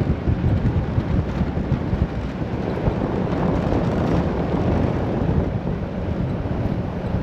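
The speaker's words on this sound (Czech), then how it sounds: "Vítr pouštní." Desert wind in Wadi Rum, Jordan, blows loud and close, a constant roaring rush that buffets the microphone with gusts and has no voices over it.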